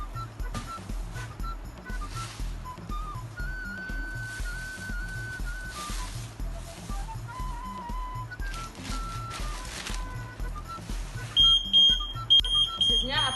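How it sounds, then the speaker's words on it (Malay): A buzzer on a full smart dustbin gives a steady, piercing high-pitched tone near the end, louder than the ongoing background sounds before it. "apabila tong sampah telah penuh, buzzer akan berbunyi"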